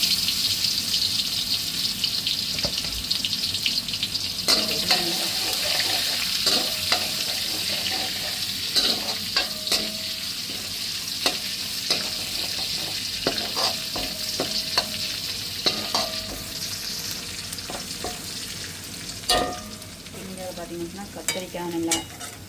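Fenugreek seeds and garlic fry in a pan with a steady hissing sizzle, broken by frequent clinks and scrapes of stirring, fairly close and without talk.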